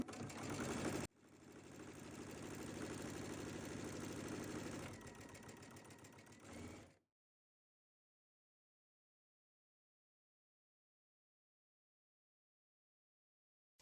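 A sewing machine stitches a quilt, a close steady mechanical whirr for about six seconds that changes pace briefly near the end before stopping abruptly into silence.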